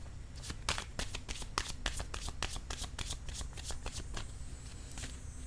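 A deck of tarot cards being shuffled by hand for a reading, a close, steady run of crisp riffling slaps and flutters at a quick irregular rhythm.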